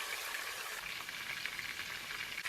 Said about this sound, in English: fry some little onion and then add your blended or your grinded pepper and the onion to it and stir it